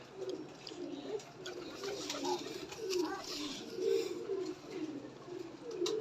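Soft repeated pigeon coos, low and rolling, nearby against a faint background hiss.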